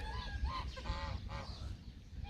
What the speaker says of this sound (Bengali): হাঁস মুরগি সবই ফালতেছে এখানে